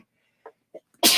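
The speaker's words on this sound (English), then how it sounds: "Oh, I got to sneeze." A single loud, sharp sneeze from a man bursts out at the end, preceded by a few faint breathy intakes in an otherwise quiet room.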